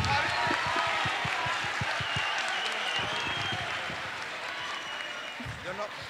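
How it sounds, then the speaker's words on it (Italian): Schoolchildren at a green school in Italy applauding themselves, a sustained crowd of clapping hands with a low murmur of voices underneath, steady and moderately loud throughout. "Ragazzi, fatevi un applauso per l'impegno"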